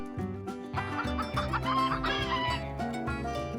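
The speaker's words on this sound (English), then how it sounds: "The chickens with feathers of many colors clucked happily as Mrs. Brown scattered grains for them to p" Several chickens cluck and murmur close by over a soft, steady musical backdrop, their calls overlapping in a busy, contented chatter.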